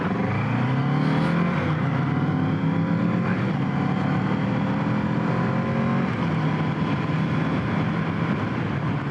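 A Kawasaki Z650 motorcycle accelerates hard and steadily, its engine note climbing in pitch as it pulls away, loud and close throughout with no talking.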